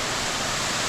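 Continuous even roar of a small waterfall, Cascada Bascan near Palenque, heard up close as dense unbroken water noise with no talking over it.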